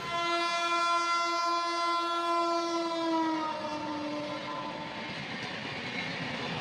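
An express train passes through an Indian railway station, its horn blaring in a long, loud, steady blast that drops in pitch as it goes by, followed by the ongoing rumble of the train.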